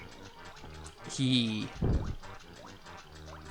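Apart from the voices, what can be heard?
character wading through water in video game Banjo-Kazooie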